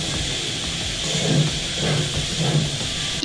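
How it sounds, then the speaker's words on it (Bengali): Fish and chopped yardlong beans frying in a pan give a steady hiss and sizzle at moderate volume, with a few gentle swells of crackle and no talking. "এবার এই সব কিছু মিশিয়ে আমি আবারও একটু ভালো করে ভেজে নেব।"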